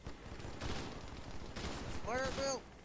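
Rapid gunfire in Halo 3: ODST, bursts of shots trading back and forth at moderate loudness, with a voice calling out briefly near the end.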